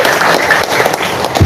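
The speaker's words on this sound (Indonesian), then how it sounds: "Tepuk tangan dulu untuk para pimpinan" Crowd applause at a labor union rally, a loud, dense wash of clapping filling the short moment without a break.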